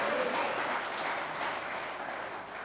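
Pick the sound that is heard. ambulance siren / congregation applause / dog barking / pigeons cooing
congregation applause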